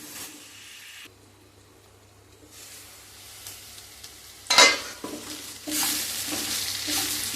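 Potato and brinjal curry cooking in a pan, a soft steady sizzle with a sharp burst of stirring near the middle and louder frying hiss toward the end, with no voices.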